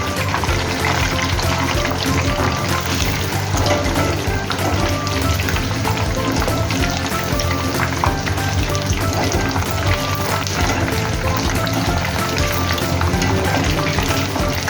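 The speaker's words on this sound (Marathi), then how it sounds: "हाय फ्लेमवर तळण्यासाठी हलवून घ्यायचे मध्ये" Chicken lollipops deep-fry in hot oil over a high flame while being stirred, giving a loud, continuous bubbling sizzle that stays steady throughout with no voices.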